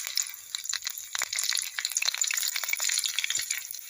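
Green chillies fry in hot oil in a kadhai, spitting and crackling close by in a busy stream of sharp pops, loud and without any talk.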